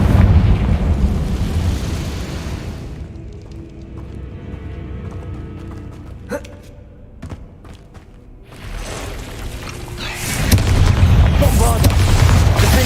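A Confringo blasting-spell explosion in Hogwarts Legacy, a loud rumbling boom at the start that fades through a quieter stretch with a few sharp cracks, then a second heavy blast near the end, with a voice talking over it.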